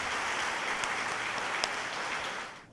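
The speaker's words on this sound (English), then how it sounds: "Let us welcome our guests with a big round of applause." A large audience at a university orientation programme applauds to welcome guests, a sustained, fairly loud wash of clapping with a few sharper claps that fades out at the end.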